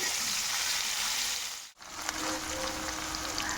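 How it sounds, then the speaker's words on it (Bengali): A fairly large onion frying in a pan for a prawn dish gives a continuous dense sizzle, broken by a brief dip near the middle, then resuming steadily with a faint clink. "পেঁয়াজটা ভালো করে ভাজা ভাজা হোক।"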